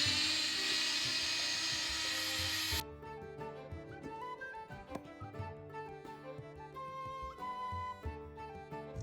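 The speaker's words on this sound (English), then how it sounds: "Grind them into a fine flour." A blender or grinder whirs loudly and steadily as it grinds oats into fine flour, stopping abruptly after a few seconds, followed by soft background music.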